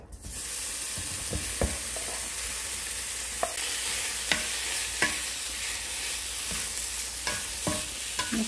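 Bacon stirred as it fries in a pan for carbonara, a continuous close sizzle broken by scattered scrapes and taps of a utensil against the pan.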